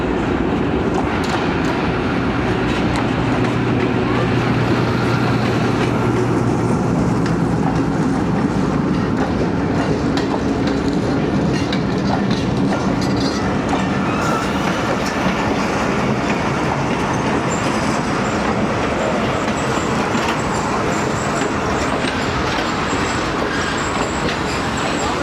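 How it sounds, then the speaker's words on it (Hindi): The 13UP Awam Express from Lahore to Peshawar rolls out under diesel lead, a loud continuous rumble with rhythmic clickety-clack of wheels over rail joints, heard from on board throughout with no voices. "हमारी ट्रेन अब रवाना होते हुए"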